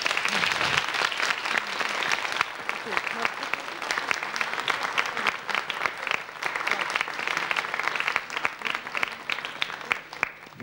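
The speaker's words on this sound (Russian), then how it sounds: "Аплодисменты." Studio audience applause on a television game show, with distinct individual claps forming a steady, moderately loud patter that continues for about ten seconds.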